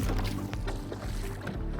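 A boat out on Kaptai Lake, heard as a brief, close rush of water sloshing and churning around the hull.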